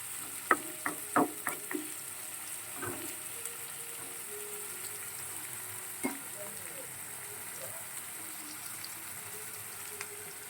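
Ginger garlic paste frying in a pan for yogurt egg curry, a quiet steady sizzle under a few spoon clinks and scrapes near the start, with a brief knock partway through.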